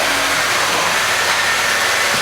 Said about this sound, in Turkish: Araç rölantide çalıştırılmalıdır.